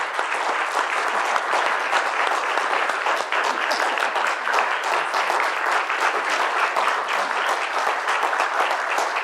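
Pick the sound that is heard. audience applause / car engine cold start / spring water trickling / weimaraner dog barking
audience applause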